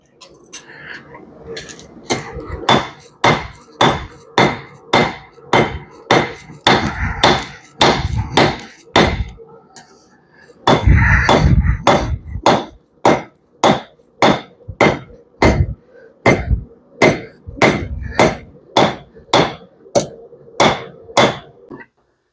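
Steady hammer blows on a knife blade at a forge, about two strikes a second, loud and close, with a short pause midway before the rhythmic pounding resumes.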